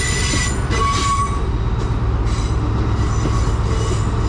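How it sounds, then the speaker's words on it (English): A CrossCountry service formed of class 43 power cars 43008 and 43007 sounds loud and close at a station, its engines droning steadily while wheels squeal on the rails throughout. "the 11:56 cross-country service to Plymouth from Leeds, formed of 43008 and 43007."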